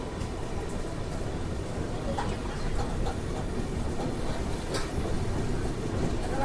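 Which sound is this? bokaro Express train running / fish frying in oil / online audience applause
bokaro Express train running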